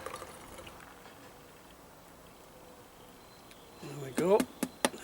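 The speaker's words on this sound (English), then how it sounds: "we'll first pour it in a glass" Cream flow beer is poured into a glass, the liquid glugging and splashing audibly near the end after a quiet stretch of room tone.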